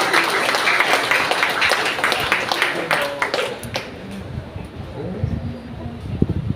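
An assembled audience claps in welcome for an honored guest, Kiai Haji Salim Abbas bin Yasin, at a formal Indonesian gathering. The applause is fairly loud for a few seconds, then thins and fades as a voice begins talking.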